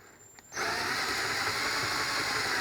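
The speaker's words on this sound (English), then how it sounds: "So now the drill bit goes through, so I want to use the exact same drill bit." A power drill bores a bit into the wooden frame of a mirrored-back loveseat during a furniture makeover, starting abruptly and then whirring steadily and loudly up close without pause.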